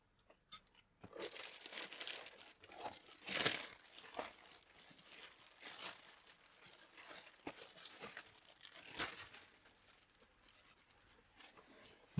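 A blade slicing open a plastic packaging bag while unboxing a Yihua 982; faint, close crinkling, rustling and tearing of plastic in irregular bursts, with occasional louder crackles.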